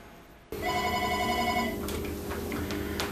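A telephone rings steadily at a Kujawsko-Pomorska Niebieska Linia helpline office, starting abruptly after a quiet moment and continuing as a loud electronic trill with faint background clicks.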